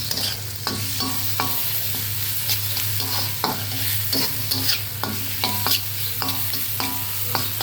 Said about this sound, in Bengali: এই তো আমি সুন্দর করে পেঁয়াজগুলো ভেজে নিলাম